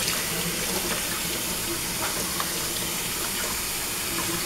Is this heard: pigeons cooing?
no